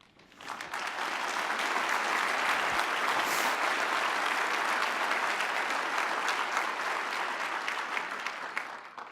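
A luncheon audience breaks into a long, even round of applause for journalist Steve Kappas, the clapping swelling quickly and holding dense and steady before tapering slightly.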